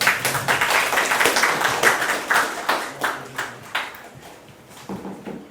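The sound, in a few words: audience clapping at an academic conference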